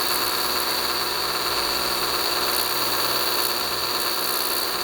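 A Ryobi EZ Clean 18V cordless pressure washer running in rinse mode, giving a constant high whirring motor drone with a hissing spray, steady and close for the whole stretch, with no voices.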